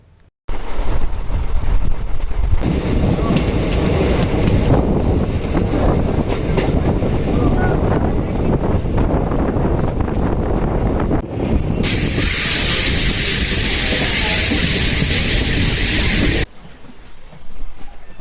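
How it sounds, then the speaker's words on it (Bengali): Train running from Siliguri to Lataguri through the Dooars past tea gardens, a loud continuous roar of wheels and carriages with rhythmic rail clatter, then a high steady wheel squeal near the end before the noise drops away. "ট্রেন ছাড়ার পর লাইনের দুই দিকে চা বাগান দেখতে দেখতে আমরা এগিয়ে চললাম"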